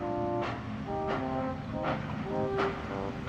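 A cartoon steam engine chugs slowly through a dark mine tunnel, giving a few evenly spaced puffs over a low, steady mechanical rumble.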